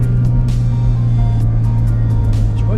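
A BMW Z4 3.0i with an automatic gearbox and open exhaust valves purrs steadily, heard from inside the cabin with the roof closed. The low, resonant engine drone stays loud and continuous throughout, with no talking.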